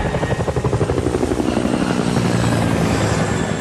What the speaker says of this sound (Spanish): En su embarcación, Mark Holbrook oyó el sonido de un enorme helicóptero a baja altitud.